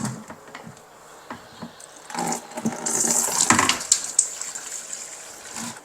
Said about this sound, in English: the first step we need to do is drain the coolant out of the radiator